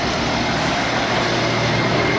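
An International Harvester 4166 tractor's diesel engine runs loud and steady at close range while backing up, a dense continuous rumble with no breaks.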